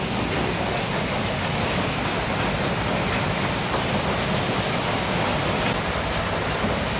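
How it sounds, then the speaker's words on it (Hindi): Heavy rain falls outside in a loud, constant roaring wash that stays even and unbroken throughout, close and dense with no voices. "और बाहर बारिश हो रही है बहुत तेज"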